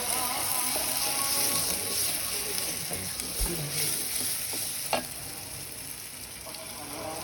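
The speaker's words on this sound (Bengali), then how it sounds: "নাড়তে দিলাম" Onion and garlic fry in a pan while being stirred, a dense, loud, continuous sizzle with scraping strokes and a couple of soft knocks, no talking.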